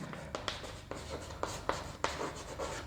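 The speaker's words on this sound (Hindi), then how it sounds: "अब दूसरी डेफिनेशन पे लिखते हैं" Chalk or marker scratches across a classroom board as a chemistry definition is written, a run of short, rhythmic strokes and taps at close range with no talking.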